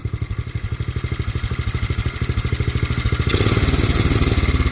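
A mini tractor truck's small engine runs close by with a fast, even, chugging putter that grows louder, then shifts to a harsher, busier roar when it is moved into high gear.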